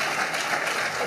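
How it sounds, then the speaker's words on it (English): An audience applauds a speech by Deion Sanders, a brief, steady wash of many hands clapping together. "You're supposed to clap for that."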